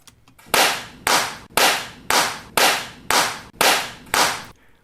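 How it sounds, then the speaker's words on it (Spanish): Eight sharp hand claps in a reverberant room, evenly spaced about half a second apart, each a loud crack followed by a smoothly fading ring of reverb. "Aquí tenemos que el aplauso arranca aquí y decae"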